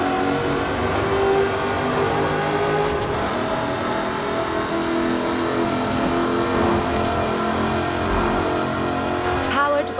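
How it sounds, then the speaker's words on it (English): A supercharged 5-litre V8 with an all-aluminium body in Forza Horizon 4, a loud continuous engine drone with revving and rising pitch, held steady for the whole stretch with a voice faintly over it. "Powered by a 5-litre V8 supercharged engine, with a fully aluminium body, it's blisteringly fast"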